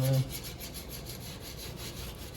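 Steel wool rubs lightly over a wood finish, a soft, steady, faint scrubbing with a quick repeated back-and-forth rhythm, close and alone.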